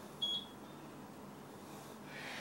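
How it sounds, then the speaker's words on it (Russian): A kitchen timer gives a short high beep early on, faint against a quiet room background with a soft hiss near the end. "вот сработал таймер."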